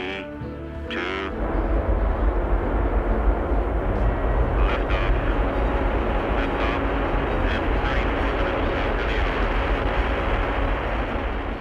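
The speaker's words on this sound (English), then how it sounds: "The Redstone rocket that carried Alan Shepard did not have enough power to reach orbit." Redstone rocket lifting off with the Freedom 7 capsule, a sudden onset of a loud, broad, sustained roar that rumbles on without break after a brief moment of quieter sound at the start.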